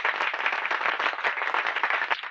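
Crowd clapping for Rede saheb at a gathering: dense, steady applause from many hands throughout, close and loud, with no pause.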